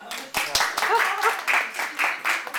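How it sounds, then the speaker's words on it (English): An audience at a community meeting presentation breaks into a short round of clapping, rhythmic bursts of hand claps mixed with voices talking over them. "Alyssa got clapped."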